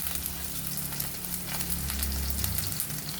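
Small onions frying in a pan until they crackle for Telangana chamagadda pulusu, a steady close sizzle with scattered crackles and light stirring, no voices.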